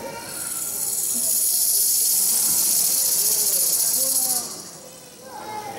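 A rattlesnake at a wildlife expo rattles its tail in a loud, continuous buzzing hiss that fades near the end, while people talk over it.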